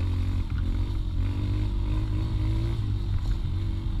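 A 125 cc motorcycle rides along a dirt trail, its engine droning in a steady, close, fairly low hum with slight changes in pitch and no speech over it.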